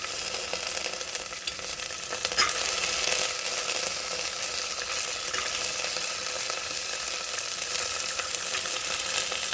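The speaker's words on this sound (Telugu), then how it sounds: "ముందు బఠానీ యాడ్ చేస్తున్నాను." Green peas tipped into hot oil in a pressure cooker while making veg kurma, giving a steady, moderately loud sizzle with a few faint metallic clinks and no talking.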